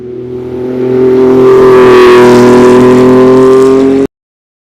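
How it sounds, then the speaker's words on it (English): A Porsche 906 Carrera race car holds a loud, steady engine drone as it rounds a corner, its tone swelling and staying strong before cutting off abruptly. "Coming around the corner is a Porsche 906."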